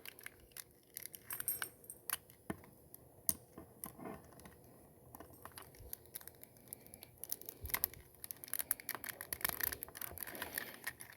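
Plastic pieces of a Transformers Hound toy click and clack as they are folded together, a close, irregular run of small sharp snaps and rattles without speech.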